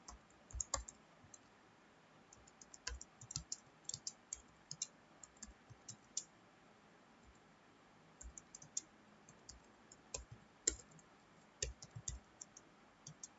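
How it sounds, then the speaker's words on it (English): Computer keyboard keys click in irregular bursts with short pauses while an HTML program is typed into Notepad, faint and close with no voices. "now we'll type the program"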